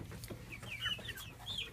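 A young rooster clucking close by, a quick run of short, throaty clucks and squawky calls over a soft background murmur.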